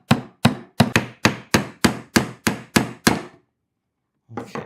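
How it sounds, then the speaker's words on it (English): Hammer tapping small nails into a beeswax-coated cedar wood bee hive frame: ten sharp, evenly spaced knocks in a steady rhythm, close and clear, then a pause and one more strike starting at the end. "And gentle with the hammer."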